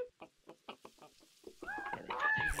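A chicken in the Witch It prop hunt video game gives a run of short, rhythmic clucks, then louder game effects and noise come in and cover the end.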